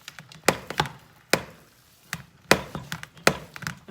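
Ground beef broken up in a pan with a utensil, giving several irregular sharp taps and scrapes at close range, separated by quiet gaps, with no talking.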